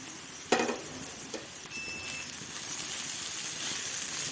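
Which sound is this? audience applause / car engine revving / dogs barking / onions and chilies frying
onions and chilies frying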